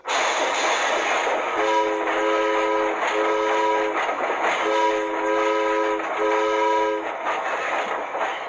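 Passing train with rumbling wheels on rails and repeated multi-tone horn blasts in a rhythmic pattern, loud and close, no speech.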